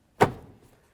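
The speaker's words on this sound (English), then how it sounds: "Once we slide it forward, we'll press it in and then lock it by sliding it back." A single short plastic thunk as the interior front door handle of a 2000-2005 Buick LeSabre is pressed into place, close and quiet, with a brief rattling decay and no talk.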